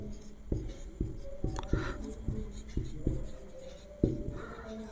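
Chalk tapping and scraping on a board during a grammar lesson, with a series of sharp knocks spaced irregularly over several seconds and a faint scratchy texture between them, fairly close and with no speech.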